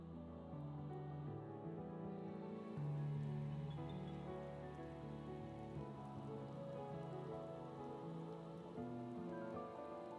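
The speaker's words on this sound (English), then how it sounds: "I love the sound of rain." Rainfall in Final Fantasy XIV: Endwalker as a steady, even patter under a low layered drone. It is faint and continuous throughout, with no voices.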